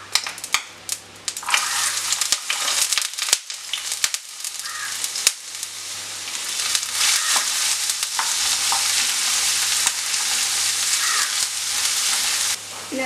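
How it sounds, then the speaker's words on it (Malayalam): Ginger and garlic sauté in oil in a frying pan for a Kerala-style king fish curry, a close, steady sizzle and crackle with occasional scraping stirs, and no one talks over it. "ഇനി നമ്മളിവിടെ എടുത്ത് വെച്ചിരിക്കുന്ന ഇഞ്ചി വെളുത്തുള്ളിയൊക്കെ ഒന്ന് വഴറ്റിയെടുക്കണം."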